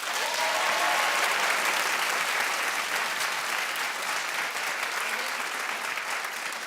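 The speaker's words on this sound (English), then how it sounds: "Clap if you'd watch the Mariah." A studio audience on a daytime talk show claps loudly and steadily for about seven seconds. The dense applause holds an even level throughout and fades only slightly toward the end.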